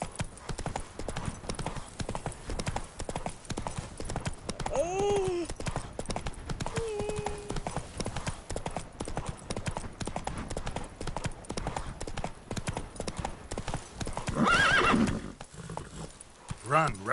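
Roach the horse gallops in The Witcher video game with quick, continuous clip-clop hoofbeats, a brief whinny partway through and a louder burst of movement near the end.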